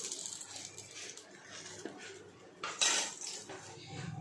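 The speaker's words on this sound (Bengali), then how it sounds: "এখন ইলিশ মাছের মাথাগুলো ভাজা হয়ে গেছে, একটি পাত্রের মধ্যে তুলে নিচ্ছি" Fried hilsa fish heads lifted out of a pan into a bowl, heard as quiet clinks and scrapes of a utensil against cookware, with a brighter clatter near the end against a soft background.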